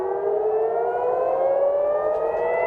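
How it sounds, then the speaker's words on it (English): A loud air raid siren wails steadily in Tel Aviv during an Iranian missile attack, its tone slowly rising, with no other sounds. "Sirens singing out in Tel Aviv as defense missile systems intercepted their missiles."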